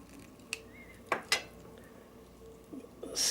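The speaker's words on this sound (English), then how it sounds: "Maybe I'll try an old butter knife this time." An old butter knife prying open a mango seed husk gives a few sharp, close clicks and scrapes spaced irregularly over quiet room tone, ending in a brief rustling burst.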